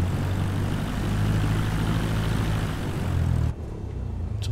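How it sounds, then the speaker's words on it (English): A propeller aircraft engine drones steadily while taxiing in Microsoft Flight Simulator 2020 at Craven County Airport, New Bern NC, a constant loud hum that drops sharply near the end. "we're now getting ready to taxi"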